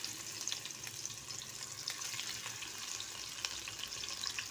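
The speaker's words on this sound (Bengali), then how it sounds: "মাছগুলো আমি ভেজে নেব।" Tilapia pieces frying in oil in a frying pan, a faint, continuous crackling sizzle with small pops, steady and alone.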